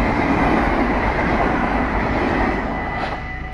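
A train rumbles past close by, a steady broad roar of wheels and carriages that eases slightly toward the end, with no voices.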